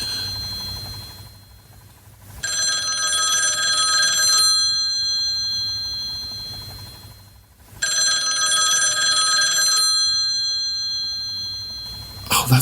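A telephone rings in two long bursts of bright, rapid bell-like trilling, separated by a pause, loud and close, with faint voices underneath.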